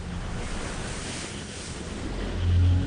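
Ocean waves and heavy wind surge around a racing yacht in the Pacific during near-hurricane winds, a continuous roaring wash that swells louder toward the end.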